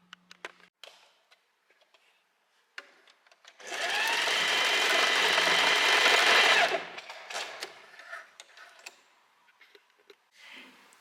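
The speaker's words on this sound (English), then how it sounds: "now I can go back to the sewing machine and sew the elastic onto the fabric here" Sewing machine stitching elastic onto fabric, a steady close-up whirring run of about three seconds, with light clicks and handling noises before and after.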